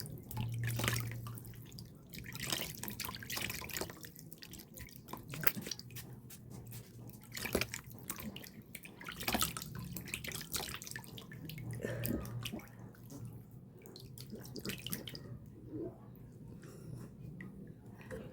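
Water splashes and drips as a coffee and calamansi face mask is rinsed off the skin, soft close squishes and trickles coming in irregular bursts at a low level.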